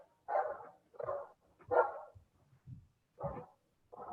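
Dog barking in a series of five or six short, loud barks spaced roughly half a second to a second apart, close by, with small quieter yips in between.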